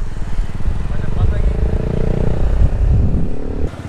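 A new motorcycle's engine drones steadily at close range, with a low rumble running throughout and a voice talking over it.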